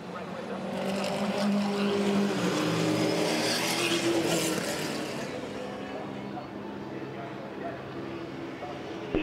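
V8 Supercars race cars from the 2010 Gold Coast 600 accelerate away as the safety car pulls off, a loud, dense engine roar swelling and then easing as the field passes.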